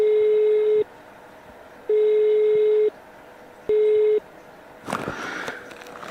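A telephone call going unanswered on a handset, three long evenly spaced ringback tones with silent gaps, followed by a short burst of rustling handling noise.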